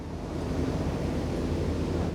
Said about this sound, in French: une gigantesque cascade de plusieurs mètres de haut